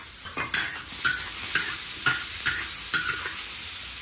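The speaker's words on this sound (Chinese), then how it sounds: "这么干炒一下得了，干扒拉扒拉。" Pork intestines dry stir-fried in a pan with salt and frozen chilies, a steady sizzle broken by regular scraping strokes of a spatula roughly every half second, close and fairly loud with no talking.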